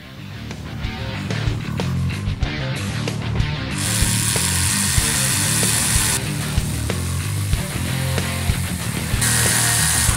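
A power tool drives kingpin screws into the portal axle housing of a Vanquish VS4-10 RC crawler, whirring with ratcheting clicks and intermittent higher-pitched bursts, close and loud throughout.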